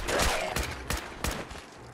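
Gunfire in the video game Fallout 4, four sharp shots spaced at roughly even intervals, each a loud broadband burst with a short decaying tail, no talking.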